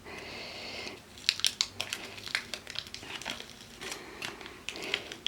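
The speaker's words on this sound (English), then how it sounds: "So you just go and peel a corner of it here and see if it's gonna come off easy." Faux leather coating peeled off fabric by hand, a dry crinkling, crackling rip with small irregular snaps and bursts over several seconds, close and fairly quiet.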